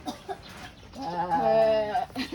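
A goat at a zoo lets out one drawn-out, wavering bleat of about a second, loud and close, with brief rustles and clicks around it.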